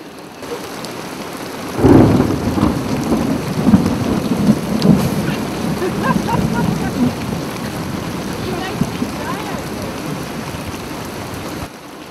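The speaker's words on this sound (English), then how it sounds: "the heavy rain has returned" Steady heavy rain hisses and drums, with a low rumble of thunder rolling in early and lingering beneath the downpour.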